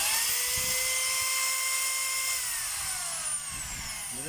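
A DeWalt D25032 rotary hammer drill under repair runs with a loud, high-pitched motor whine, near and continuous, its pitch sliding down slightly as it winds toward the end.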